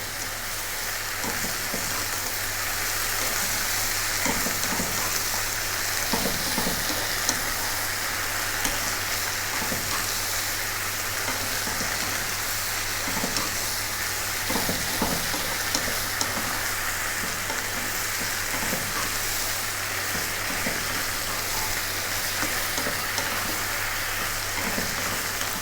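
Tofu stir-frying with soy sauce over high heat, a steady, loud, dense sizzle with occasional tossing and scraping sounds, continuing evenly without speech.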